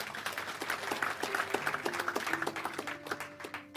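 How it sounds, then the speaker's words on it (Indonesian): An audience at a church sermon applauds, with a dense wash of clapping held steady for a few seconds before thinning out. A voice tone runs faintly beneath it. "Beri tepuk tangan."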